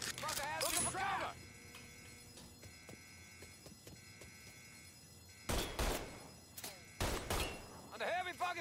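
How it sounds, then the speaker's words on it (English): Gunfire in Mafia III, a few loud bursts of shots arriving in clusters after a quieter stretch, with voices speaking in places. "Under heavy fucking fire."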